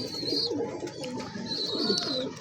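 A male Allahabadi Kalchira pigeon coos close by in repeated rolling, throaty phrases, with a faint high background tone throughout.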